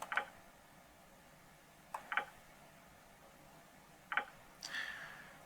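Unidentified clicking in an office, a few short, sharp clicks spaced a couple of seconds apart against a quiet room tone, closing with a brief faint chirp.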